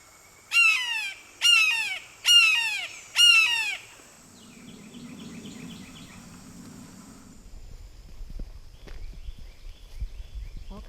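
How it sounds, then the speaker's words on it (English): Large wading birds give four loud, rough harsh calls in quick succession at a Florida swamp rookery, followed by fainter chatter and distant bird calls over low ambient rumble. "There's tons of birds out here."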